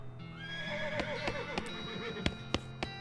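Horse neighing in the video game West of Loathing, a drawn-out whinny with fluttering pitch over a steady low game music bed, followed by a few sharp clicks.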